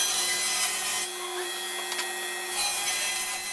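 Half-inch plywood being sawn to cut legs for a jointer stand, a steady rasping cut that runs nearly throughout, easing briefly in the middle before resuming, close and alone with no talk.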